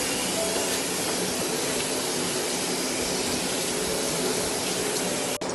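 Tap water running steadily while hands are washed at a sink at home, a continuous broadband hiss and splash that holds at an even level with no talk over it.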